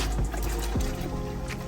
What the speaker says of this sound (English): And now I'm going to pour in all the meatball.